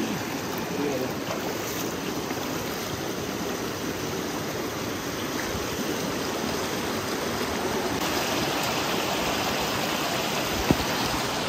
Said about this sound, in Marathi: बापरे लयच खतरनाक आहे हे वॉटरफॉल नाही का